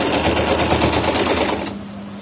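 A sewing machine runs steadily, stitching over a folded ribbon on a kurti sleeve with a dense, rapid mechanical chatter. It cuts off near the end, leaving a low hum.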